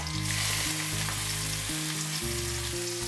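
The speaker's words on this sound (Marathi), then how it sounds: "त्यानंतर आपण इकडे घेऊया 2 बारीक चिरलेले कांदे" Finely chopped onions frying in hot oil with curry leaves and green chillies for Maharashtrian kanda poha, a loud continuous sizzle close up, with steady crackling and no voices.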